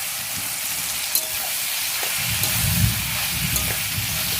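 Soybean chunks fry in a pan with a soft, steady sizzle, stirred now and then with low scraping sounds, close by and fairly quiet, with no talk.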